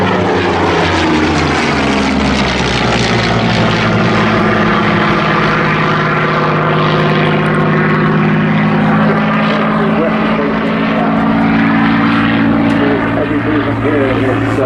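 A pair of Spitfires, a Mk3 and a Mk5, fly a tail chase at the 2018 Southport Airshow, their piston engines droning loud and continuously, with the tone straining and shifting as they turn.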